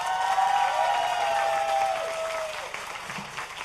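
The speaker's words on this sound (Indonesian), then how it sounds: "Mana tepuk tangan dong yang dibayar?" At a political campaign event with university students, the crowd applauds with dense clapping and a few shouts, loud at first and then tapering off slightly toward the end.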